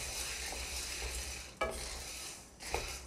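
Corn kernels are stirred nonstop in a hot pan over the flame, making a continuous dry rattle and sizzle with a couple of louder scraping strokes, close up and with no talking.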